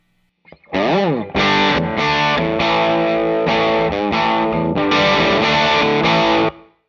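Heavily overdriven electric guitar through a RedPlate Tweedy Drive pedal with its tone circuit disengaged, a harsh, saturated tone playing loud sustained chords and short bursts, close and alone with no voices.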